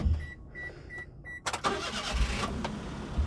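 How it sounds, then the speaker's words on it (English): Daihatsu Hijet S211P mini dump truck engine cranking after a few soft chimes, then catching into a steady mid-pitched idle close by, with no talk. "I'll just start the engine."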